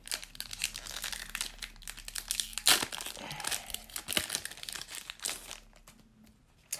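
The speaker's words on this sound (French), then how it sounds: "Ensuite, on va ouvrir ce petit booster-là." Crinkly foil wrapper of a Pokémon card booster pack being torn open and handled close by, with bursts of crackling and rustling, one sharp rip near the middle, then quieter fumbling.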